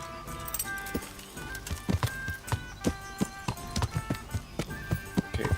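Rhythmic hoof clip-clops of a horse at a walk, evenly spaced and fairly close, over a soft tonal background with no talking.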